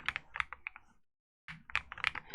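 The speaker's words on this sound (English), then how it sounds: "It has a slightly higher pitched sound profile than my other keyboard does" Quick bursts of clicky keystrokes on a mechanical computer keyboard, a short run, a clean pause of silence, then another rapid flurry, close and fairly quiet.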